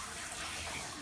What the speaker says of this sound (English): You don't like the water, Nai Nai?